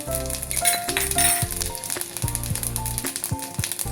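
Cumin seeds sizzle and crackle in hot ghee, a bright steady frying hiss with small pops and a few metallic clinks of a spoon.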